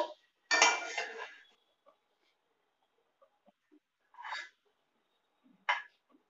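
A spoon scraping and clinking against a pot while egg masala curry is stirred: one longer scrape followed by two short, separate clinks, close and fairly quiet, with near-silence between them.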